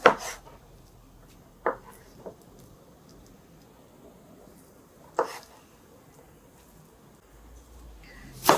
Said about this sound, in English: Now, cut the carrots like this.